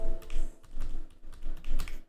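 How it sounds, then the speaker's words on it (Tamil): A mobile number is tapped out on a computer keyboard in quick bursts of close, clicky keystrokes with short pauses between groups, against a faint steady hum. "நான் மொபைல் நம்பர் டைப் பண்ணுறேன்"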